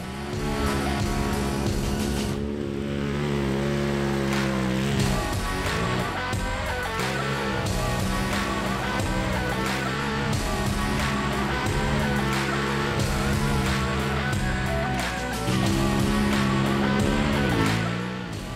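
A Polaris off-road vehicle in two-wheel drive races around a sloppy, cut-up muddy paddock track, its engine roaring loud and close with rising and falling revs through the corners, without pause.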